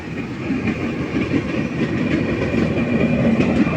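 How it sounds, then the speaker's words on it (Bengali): A crowded train rolling through a station close by, with a steady heavy rumble, rhythmic clickety-clack of wheels over rail joints and a faint metallic whine, continuous and loud throughout. "আমাদের এখানে ট্রেন আসতে চাই, যে দেখতেই পাচ্ছেন ট্রেন ঢুকে গেছে"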